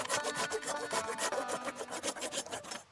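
Dry split firewood rasps and scrapes as logs are rubbed together and shifted by hand, a steady rough scuffing with small knocks, close and moderately loud, ending as the wood is set down.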